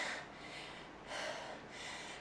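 Heavy, rhythmic breathing from a rider during a group café bike ride, three broad breath surges across a couple of seconds, close and fairly quiet with no talk.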